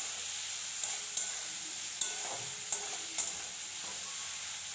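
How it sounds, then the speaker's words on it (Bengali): Prawns fry in an oiled pan with a steady, even sizzle, while about five short scraping knocks of a spatula stirring them stand out at intervals. "চিংড়ি মাছ ভাজা করা হয়ে গেছে"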